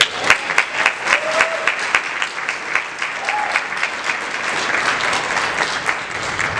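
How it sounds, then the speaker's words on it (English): A crowd claps steadily, a dense sustained applause with a few louder individual claps standing out near the start. "and I think we should give Reverend Sharpton another round of applause."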